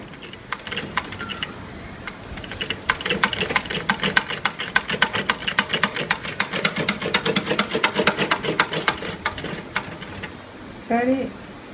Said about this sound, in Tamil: பிளவுஸ் ஃபிட்டு தான், லைனிங் துணி. அதில் தான் தைச்சிட்டு இருக்காங்க.